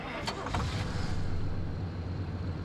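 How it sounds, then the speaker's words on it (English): The gasoline engine of a car in the video game Pacific Drive runs at a steady low hum as the car drives around a track, with faint airy noise and no talking. "It sure sounds like it's still a gasoline engine."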